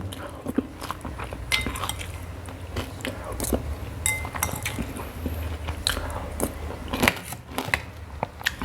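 Close, crunchy chewing and mouth noises while eating a tray of basil stir-fry with century egg, with irregular bites and clicks and a faint background hum.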